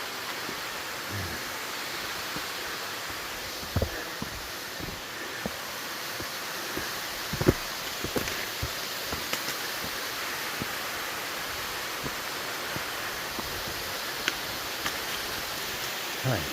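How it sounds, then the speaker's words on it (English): A waterfall tumbles beside a hiking trail with stone steps, a steady broadband rush of falling water that stays even throughout, with scattered footstep-like clicks and knocks over it. "Oh man, this waterfall just keeps on tumbling."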